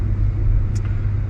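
Supercharged Hemi gas engine of a 2021 Ram TRX pickup truck rumbles at a steady low drone from inside the cab, holding even throughout with no talking.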